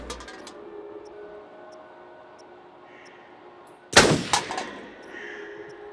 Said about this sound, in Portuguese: Que tiro foi esse?